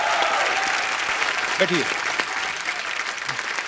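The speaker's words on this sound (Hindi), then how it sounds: "दोनों के लिए जोरदार तालियां" A studio audience at a Hindi comedy talk show claps loudly and steadily for a few seconds while a host's voice briefly speaks over the applause.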